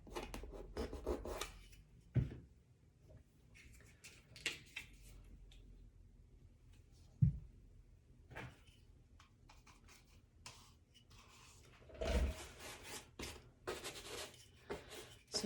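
A brush scrubs antique glaze into a canvas in quick, irregular rubbing strokes, close but soft, with several louder scuffs and taps scattered between quieter stretches.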